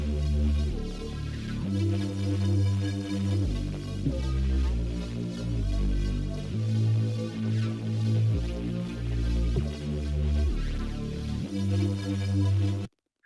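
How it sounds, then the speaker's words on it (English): A dry synth bass melody programmed in Ableton Live plays alone, loud and steady, with sustained low notes shifting every couple of seconds in a looping phrase before cutting off at the end. "So I have some bass here, right? And the bass sounds like this."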